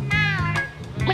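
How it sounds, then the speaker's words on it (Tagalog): A cat meows up close, a couple of drawn-out, insistent cries in quick succession. "Kitty! Kitty! Kitty! Uy! Kitty! Meow! Meow!"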